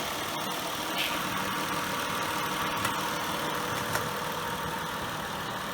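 A stock 3.2-liter Type II V6 in a 1994 Acura Legend coupe idles steadily, a smooth, even engine hum with a couple of faint clicks and no voices.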